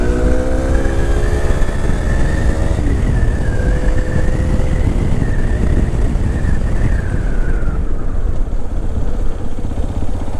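A Hero XPulse 210 motorcycle rides at speed, its engine droning steadily and loud throughout with a rising and falling pitch as the rider works through the gears.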